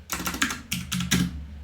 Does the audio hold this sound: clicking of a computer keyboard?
yes